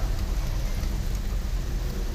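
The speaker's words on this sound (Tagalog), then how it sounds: "Nagtatambay muna kami dito kasi sobrang lakas talaga yung ulan." Heavy rain pours down in a steady, dense roar with a low rumble underneath, loud and close, with no voices.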